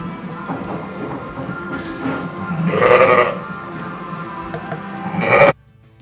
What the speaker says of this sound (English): these ewes over here, they haven't lambed yet.